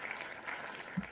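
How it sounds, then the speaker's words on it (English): An applause sound effect of steady light clapping, soft and continuous for about a second in a talk show setting, with no speech over it. "it has clapping and every sound effects and everything too"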